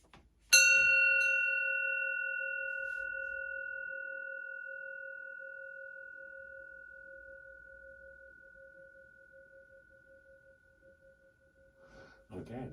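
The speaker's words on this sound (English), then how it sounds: "Here comes the good luck bell." A single struck bell rings out once with a clear metallic tone, its overtones slowly fading over about ten seconds before a voice speaks at the end.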